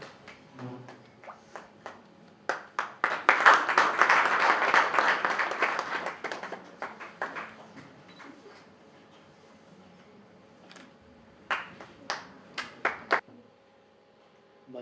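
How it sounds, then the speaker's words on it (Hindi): An audience at a ceremony breaks into applause, a dense burst of clapping that swells then thins out into scattered individual claps, with a few later isolated claps before quiet. "बाकी लोग ताली बजा सकते हैं।"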